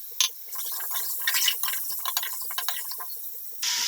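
Water poured from a vessel into a cooking pot of diced potatoes for aloo pulao, a few seconds of splashing and filling with clinks of metal and glass, close and fairly quiet, with no talking.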